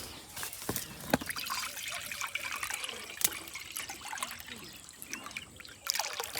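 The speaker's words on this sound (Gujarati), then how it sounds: "આપણા પાણીના કુંડામાં રેડી દઈએ" Water poured from a bottle into a small water bowl for birds outdoors makes a steady close trickle and splash, with a few sharper clicks and a brief louder gurgle near the end.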